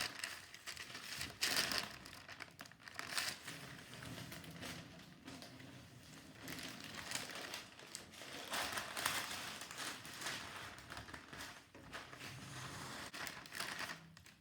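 Wax paper under a chilled ginger layer cake crinkles and rustles as the cake is moved to a tray, soft and close, in irregular crackling bursts that continue on and off with no talk.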